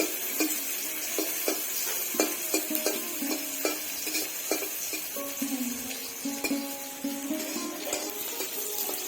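Chopped onions sizzling steadily as they fry in a pan for a Bangladeshi tengra fish dish, with scattered clinks and stirring scrapes over a constant crackling hiss.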